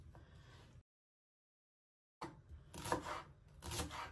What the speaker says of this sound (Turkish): şimdi de taze soğanlarımızı doğruyoruz